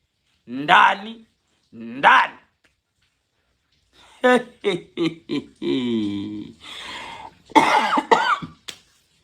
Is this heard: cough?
yes